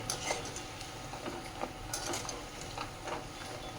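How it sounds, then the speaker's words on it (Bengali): Jaggery-coated murali snacks fry in hot oil in a home kitchen, giving a faint, soft sizzle broken by light scattered clinks and stirring scrapes of a utensil in the pan, with no voices. "এগুলো একটু টাইম নিয়েই ভাজতে হবে তবেই কুরকুরা হবে"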